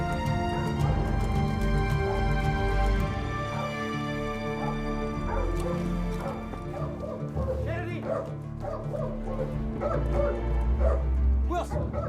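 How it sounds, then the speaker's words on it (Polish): A dog named Wilson barks and yips frantically, in rapid, repeated loud bursts mixed with whimpers, close by and continuous throughout. "Szczeka jak wariat."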